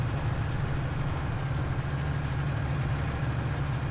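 A tractor engine idles steadily in Farming Simulator 19, a low, continuous diesel rumble that holds even and fairly loud throughout with no talking.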